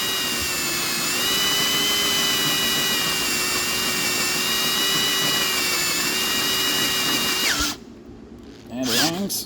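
A power drill bores holes for temperature gauge sensors on a turbo Miata build, its steady high whine running loud and continuous for several seconds before cutting off, followed by brief muffled handling noise.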